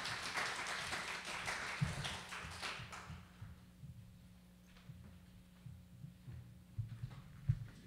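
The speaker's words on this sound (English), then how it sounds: "We don't often get applause here, so that was terrific." A church congregation applauds after a Sunday service sermon. The applause is faint and spread out for about three seconds, then dies away into a quiet room hum broken by a few soft thumps.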